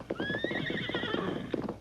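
A horse whinnies in a long, high, wavering neigh while hooves clip-clop close by, with a second shorter neigh following.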